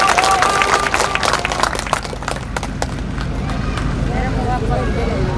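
A crowd at a political rally in India claps steadily, loud and close at first, fading into a softer patter of applause mixed with crowd babble and someone speaking over a PA.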